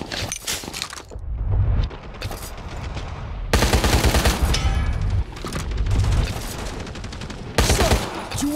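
HUOT machine gun firing in the World War Heroes video game, heard as loud, close bursts of rapid automatic fire separated by short pauses and some background clatter.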